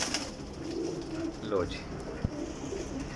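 Sialkoti pigeon cooing softly in a low, close call amid quiet background noise, with someone talking over it and a brief knock near the end.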